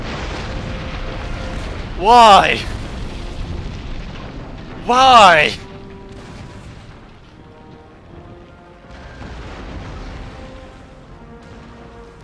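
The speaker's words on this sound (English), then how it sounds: "Why is my ship so prone to explosions?" Two loud, booming ship explosions in Empire Total War, a naval battle with an Ottoman fleet, burst out a few seconds apart, each followed by a fading rumble, while someone talks.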